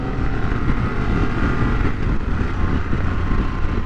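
A 2023 Harley-Davidson Pan America Special is ridden slowly through a corner in first gear, its engine giving a steady, loud, close drone that continues without a break.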